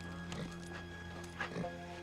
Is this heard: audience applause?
no